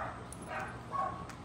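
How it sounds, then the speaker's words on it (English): Several dogs bark and yip outdoors at a distance, a few short faint yelps with a soft whimper over a steady background hum, no talking. "I don't know if they barking because they hear me or what."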